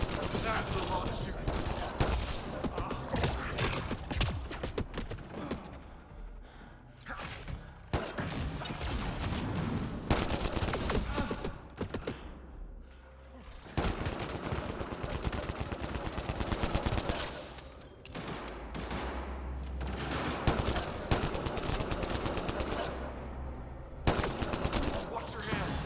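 Heavy gunfire during Mass Effect Andromeda combat, with loud bursts and rapid volleys coming in waves over about twenty-five seconds, broken by short lulls, with some voices mixed in.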